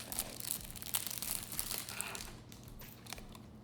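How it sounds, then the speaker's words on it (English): Plastic wrapping crinkles and crackles as it is pulled off an eyelash case, close and busy at first, then thinning to scattered rustles. "let me take it out of the plastic so you guys can see"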